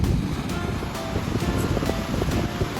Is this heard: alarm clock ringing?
no